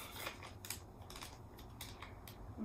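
Scissors snip through the top of a plastic piping bag in a home kitchen, giving a few quick, faint, crisp cuts in a quiet room.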